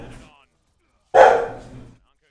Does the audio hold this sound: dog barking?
yes